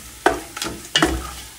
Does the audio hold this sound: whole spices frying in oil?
yes